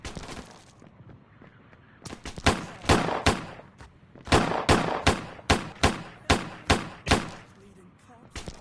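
Gunfire in the video game Autobahn Police Simulator 3: an opening burst, then a steady series of about a dozen sharp, evenly spaced shots, close and loud, with short pauses between volleys.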